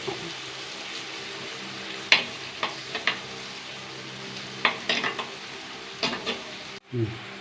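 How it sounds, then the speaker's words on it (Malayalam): Green chillies and curry leaves fry in hot oil in a pan, a steady close sizzle broken by sharp crackling pops and spoon scrapes, cutting off abruptly near the end. "മൂന്ന് പച്ചമുളക് ഇട്ടു ഇതൊന്ന് മൂക്കട്ടെ കേട്ടോ ചൂടായി മൂത്താ ഒരു രണ്ട് കറിവേപ്പില"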